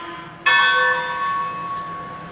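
A model Y-3 Legacy 2-8-8-2 locomotive's bell strikes once with a sharp onset, then rings on with a steady, bright metallic tone that fades only slightly; it is heard alone and up close.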